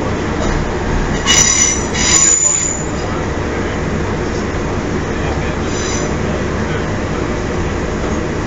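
A diesel train rumbles along steadily on a non-electrified line near Bedford, with brief high wheel squeals near the start before settling into a constant rolling roar.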